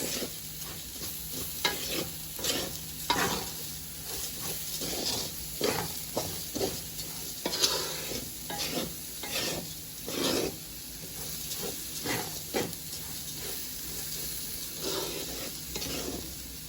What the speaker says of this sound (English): allow the onion and all my garlic and the scallions to fry within the rice.